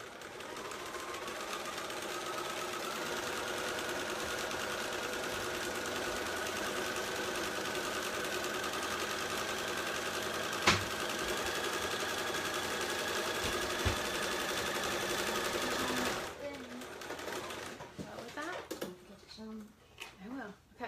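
A sewing machine runs steadily as it stitches a cross-body purse made from a repurposed T-shirt, a continuous whirring hum for about sixteen seconds before stopping, followed by softer handling noises while a person talks.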